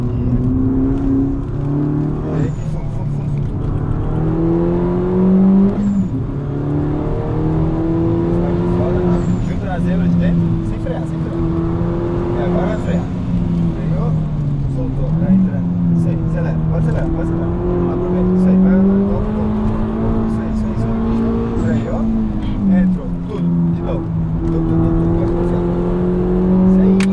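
A Citroën DS3 R race car (STG2) lapping the Nürburgring, its engine droning loud and steady from inside the cabin with rising and falling revs through gear changes, while a voice talks over it.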